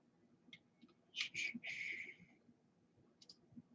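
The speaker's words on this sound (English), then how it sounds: "I gotta use a mouse and keyboard for this." A computer mouse and keyboard click in short, sharp bursts, a few quick single taps and then a denser cluster of clicks, fairly close over a quiet room background.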